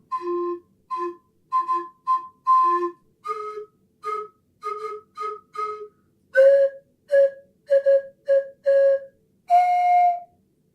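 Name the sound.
metal slide whistle being played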